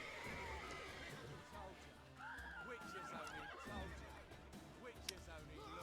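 Horse neighs and whinnies in The Witcher 3 on Death March difficulty, rising over steady game ambience with a voice talking through much of it.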